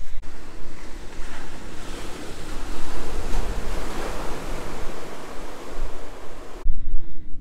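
Ocean waves break and wash onto a private beach in Baja California, a loud steady roar of surf with wind buffeting the microphone that cuts off abruptly near the end.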